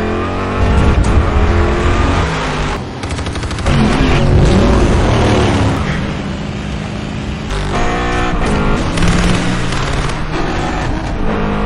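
Cars speed through a movie car chase with loud, roaring engines and surging acceleration, mixed with intermittent bangs and crashes, close and intense throughout.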